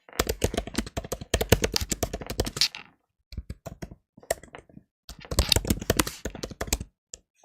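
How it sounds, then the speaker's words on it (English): Rapid clattering keystrokes on a computer keyboard come in bursts separated by short pauses, close and distinct. "I'm just typing."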